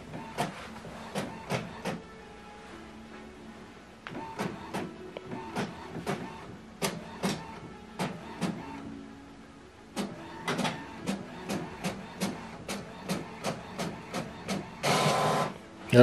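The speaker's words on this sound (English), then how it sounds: "Remember, we are printing this colored two-sided." An Epson WF-7840 inkjet printer prints a double-sided colour document, giving repeated sharp mechanical clicks and clacks in a steady rhythm, with a brief burst of louder whirring paper feed near the end; close and clear, no talking.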